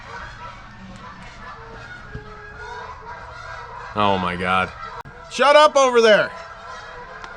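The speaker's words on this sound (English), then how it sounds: "Sorry about the geese next door." Geese in a neighbouring yard honk loudly in two harsh, repeated bursts that cut through a quiet background, while someone speaks briefly nearby.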